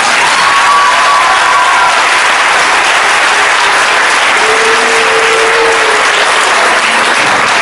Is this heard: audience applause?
yes